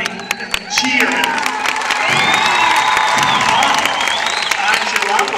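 An audience at an Australian Stock Horse display breaks into sustained clapping and cheering as four horses perform a hard stop and side pass. A dense, steady wash of applause with whoops and shouts rises after about a second and carries on to the end.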